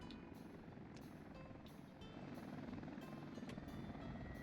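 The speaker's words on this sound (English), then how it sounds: "I'm so happy that I actually have helicopters out here." Helicopters flying in the Soviet-era city-building game Workers & Resources: Soviet Republic, a steady, loud rotor drone that holds throughout, with faint periodic higher bursts on top.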